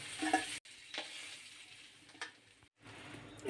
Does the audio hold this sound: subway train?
no